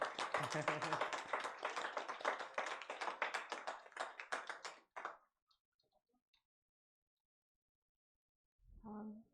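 Congregation clapping at a Korean church youth service, a few seconds of brisk, close rhythmic applause that fades out abruptly, then near silence before a voice starts speaking at the end.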